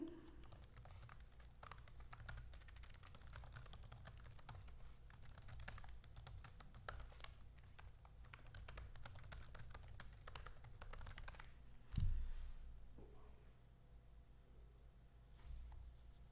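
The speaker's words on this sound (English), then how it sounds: "I can just type here" Steady rapid clicking of keys on a computer keyboard, close and fairly quiet, in bursts of fast typing with a brief pause and a couple of heavier thumps near the end.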